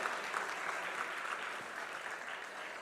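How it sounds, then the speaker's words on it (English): At a business awards evening in Kolkata, a crowd keeps up a steady round of applause. The clapping is continuous and even in level, heard fairly faintly and unbroken throughout. "that, ladies and gentlemen, deserves a louder round of applause"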